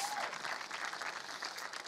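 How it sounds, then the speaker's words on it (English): A crowd at Startup Grind 2019 breaks into steady, dense applause, many hands clapping at once and filling the room for the whole stretch. "give that a round of applause"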